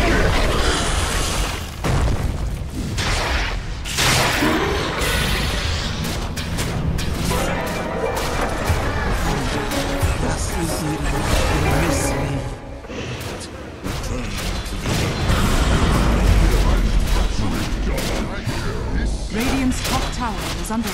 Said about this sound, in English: Radiant's top tower is under attack. Radiant's top tower has fallen.